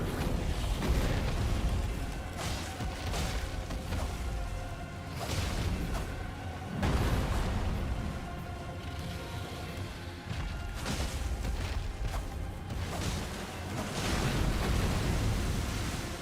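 A dragon's stomp attack in the Elden Ring video game, a broad rumbling roar of game sound with heavy surging bursts that swell and fade over a constant noisy bed, no voices.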